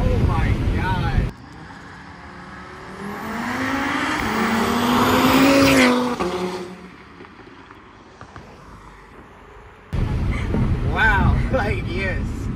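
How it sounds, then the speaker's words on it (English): A car on E85 fuel is driven hard from second gear, its engine rising in a loud, climbing acceleration roar with wind buffeting. Excited talk inside the car comes before and after the run. "now we're gonna do our first little E85 test hit and then see how the car performs"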